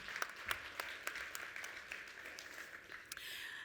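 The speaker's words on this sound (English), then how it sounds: "Let's give him a round of applause, please." A fairly quiet, scattered round of applause from the audience at the 2023 BRICS Business Forum, heard as distinct individual claps in an uneven rhythm within a hushed hall.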